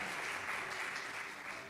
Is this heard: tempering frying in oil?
no